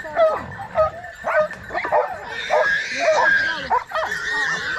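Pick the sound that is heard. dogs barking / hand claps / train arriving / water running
dogs barking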